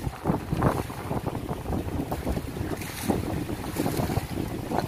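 Strong wind buffets the microphone on a fishing boat at sea, with waves surging and splashing in irregular loud gusts and a constant rough roar throughout, and no talking.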